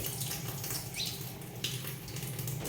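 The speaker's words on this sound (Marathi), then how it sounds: "मी आपली एक दोन पाण्याने आता हे मूग धुवून घेणार आहे" Sprouted green moong beans are rinsed in water, with continuous running and sloshing water close by, steady throughout, with faint clinks.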